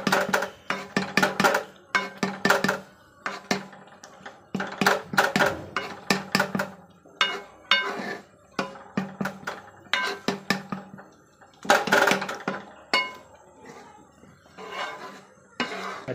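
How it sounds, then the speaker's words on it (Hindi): Cooked dal (lentils) being mashed in a metal pot in a home kitchen, a busy run of repeated knocking and scraping clatters in irregular bursts, close and fairly loud, with no talk. "अभी तो दाल तो पूरी तरह से कूट दिया मैंने"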